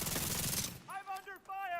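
Video game gunfire, a rapid burst of loud automatic shots that cuts off abruptly, followed by brief synthetic game alert tones.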